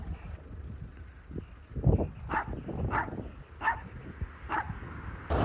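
A dog barks in several separate bursts at a street near passing cars, the barks loud and close, spaced about a second apart, with a few whimpers and yips mixed in and some background noise between them.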